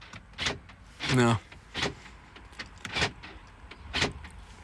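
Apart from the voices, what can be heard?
Saab 9-3 estate locking, windows closing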